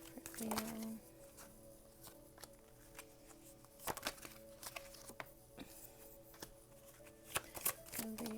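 A deck of tarot cards being shuffled close by, with soft repeated riffles, flicks and taps coming in uneven bursts against a quiet background.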